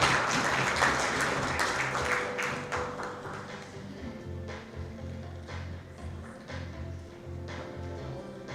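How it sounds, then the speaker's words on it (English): Audience applause greeting a guest of honor at a panel felicitation event, dense clapping at first that gradually thins and softens over several seconds, with some low rumble and scattered taps. "please give a round of applause"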